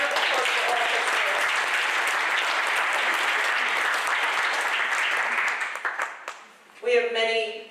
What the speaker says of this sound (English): I think he deserves a round of applause for all of us